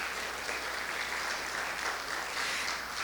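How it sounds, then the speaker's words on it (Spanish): Congregation applauding in a church service, an even, sustained clapping that fills the room at moderate level with no speech on top. "Démosle un aplauso al Espíritu Santo de Dios."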